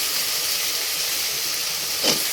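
Teasel gourd and potato pieces go into a pan of frying spices, giving a continuous close, bright sizzle and hiss throughout without a break.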